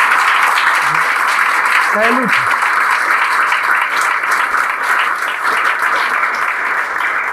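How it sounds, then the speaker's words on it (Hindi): An audience gives a standing ovation, with steady, loud applause washing through the room as a voice briefly speaks over it near the start. "भाई खड़ा होकर ताली बजा दीजिए लोग"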